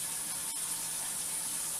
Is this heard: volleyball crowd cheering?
no